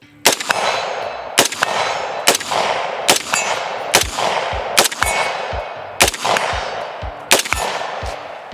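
An AR-15 fitted with a forced-reset trigger fires 7.62x39 rounds from ASC magazines in slow mode, eight loud, close, ringing shots at a steady, unhurried pace with metallic clangs between them and no talk.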